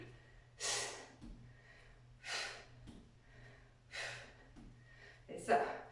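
Forceful exhalations during a French cardio and muscle interval workout, four strong breathy bursts spaced about every one and a half seconds, close and fairly loud over a low steady hum.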